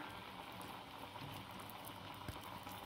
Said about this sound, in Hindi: तेल हमारा अच्छा गरम हो गया है तो ये इसमें डाल देंगे